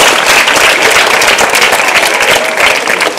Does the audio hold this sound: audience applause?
yes